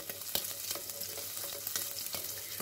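Bacon sizzles and crackles in a frying pan, a steady close hiss dotted with sharp pops and stirring clatter, with no talk.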